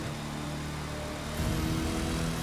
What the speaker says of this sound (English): So at least they put the different engine sound in there for this vehicle.